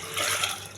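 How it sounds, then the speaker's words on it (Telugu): Water is poured from a glass into a pressure cooker holding lentils, giving a short, close trickling splash that rises and fades within a moment, with no voices. "పప్పు కావాల్సినంత వాటర్"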